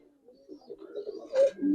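A pair of pigeons, Giribaz coloring or Army breeds, coo in low throaty rolls that build and swell toward the end, close and clear in a quiet setting with no talk.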